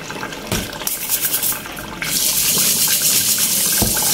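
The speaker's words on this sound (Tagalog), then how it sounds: "Ganito ako maghugas ng alimango." Tap water runs steadily into a sink while a crab is washed and scrubbed, with splashing changes as the flow hits the shell, then a louder, fuller gush of running water.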